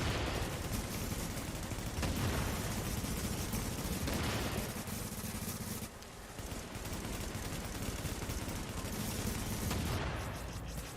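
Constant, fairly faint gunfire from The Division video game runs through the whole stretch, a dense unbroken chatter of shots with slight dips in intensity.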